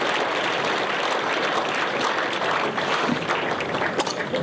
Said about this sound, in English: And gets an ovation from the Yorkshire crowd